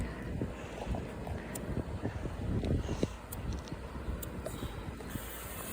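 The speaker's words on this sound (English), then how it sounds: "It's too freaking windy." Strong gusts buffet an outdoor microphone during daytime fireworks, producing a loud, uneven low rumble that swells and fades over several seconds with no clear voices.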